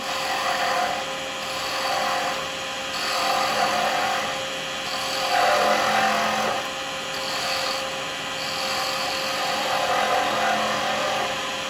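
A wood lathe spins a pen blank while a round chisel cuts beads into it, giving a steady, close whirring hiss that swells and eases in slow, regular waves as the tool bites and lifts.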